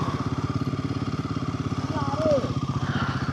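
A motorcycle riding in snowy mountains toward the Atal Tunnel on the Manali–Sissu road, its engine thumping in a rapid, steady pulse up close, with a brief whistle-like tone partway through.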